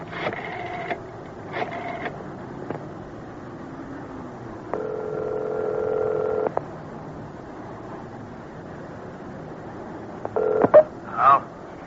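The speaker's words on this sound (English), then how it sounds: "Bill, Helen, I'm calling from a payphone." Payphone dialing in an old-time radio crime drama, a few bursts of touch-tone beeps, a longer steady tone, then more dial tones and a clunk near the end, heard alone without talk.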